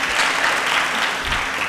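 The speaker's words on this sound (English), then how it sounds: "Ladies and gentlemen, where's the applause?" A conference audience breaks into applause, a loud, steady, close wash of clapping sustained for the whole stretch.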